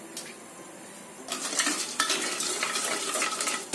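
A spoon scraping and clattering inside a metal pot as sugar and water are stirred, quiet at first, then loud, busy strokes with a sharp knock near the end.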